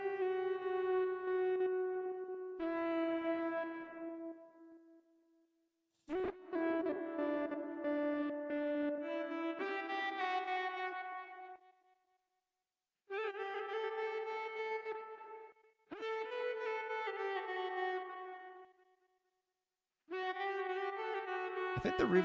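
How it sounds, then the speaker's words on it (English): Looped synth notes played through a reverb effect, sustained tonal phrases that start and stop in separate bursts with short gaps of near silence, close and moderately quiet. "I think the reverb sounds pretty good."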